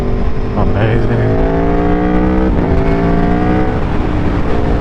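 A 2024 Aprilia Tuono V4 1100 Factory motorcycle revving hard and accelerating on an open road, loud rising engine tones with a gear change partway through, heard close with rushing wind.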